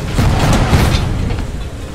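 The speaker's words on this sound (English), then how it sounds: "The cannons and the gunfire feel really actually pretty good in this game." Heavy booming cannon blasts roll together in a dense, loud barrage of pirate game combat, with no clear gaps between the shots.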